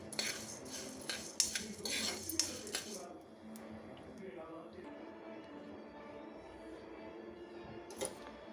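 Coriander and chillies dry-roast over a low flame in a pan, with a spoon clattering and scraping against the metal for a few seconds before it settles into quieter occasional clinks, while a voice talks.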